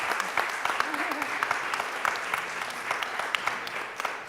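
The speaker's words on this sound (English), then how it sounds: "some applause." A conference audience applauds, a crisp stream of many hands clapping at a steady, even level that continues throughout.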